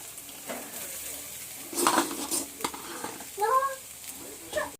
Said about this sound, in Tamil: சாப்பாடு போட்டு கிண்டிக்கலாம்.